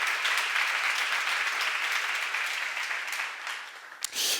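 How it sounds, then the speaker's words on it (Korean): A church congregation at a Korean seminar on Romans applauds, a dense and even roar of clapping that holds for about four seconds before it cuts off abruptly. "박수로 하나 주세요"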